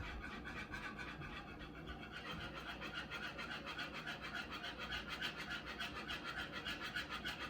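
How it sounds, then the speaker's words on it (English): Brown sauce being whisked in a pan: a steady, rhythmic scraping and rubbing of the whisk that carries on evenly throughout, fairly close and with no talking. "This is the brown sauce. You're going to use the whisk to whisk it in."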